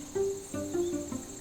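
Modded Minecraft forest ambience: quiet steady background with a high insect-like buzz, cricket chirps and a few soft tonal blips over a low hiss, brief and faint.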